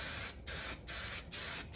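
Spray adhesive hisses onto an upholstery door panel board in four steady bursts separated by brief gaps, close and loud.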